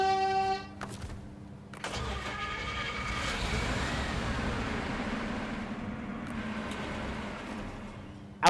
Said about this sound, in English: That's probably one of the greatest horns in the game.